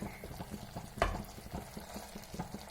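Hesarukallu palya with sorekai simmers uncovered in an open pan as the water boils off, giving soft steady bubbling with faint pops and one brief louder clink.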